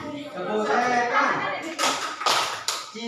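Children clap out the Indonesian 'tepuk setan' routine in a classroom, a series of sharp rhythmic hand claps that briefly dominate the room while a teacher's voice talks and chants over the sequence.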